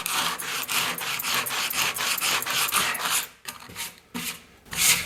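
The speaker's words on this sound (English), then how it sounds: "So on the positive side of things, at least all the sanding is warming me up nicely." Rhythmic back-and-forth rasping of sanding on wood, close and loud, with brief pauses between strokes toward the end.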